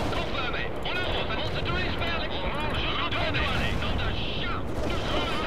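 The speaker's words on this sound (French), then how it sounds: "vous venez de me prendre un obus" An artillery shell strikes the player in the video game World in Conflict, a dense rumbling blast amid continuous battlefield gunfire and explosions, with someone talking over it.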